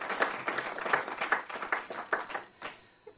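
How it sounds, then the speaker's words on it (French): An audience applauds at a French ceremony or gathering, a steady patter of many hands clapping at moderate volume for about three seconds, with no voices over it. "Je propose qu'on l'applaudisse parce que vraiment elle a fait un énorme travail."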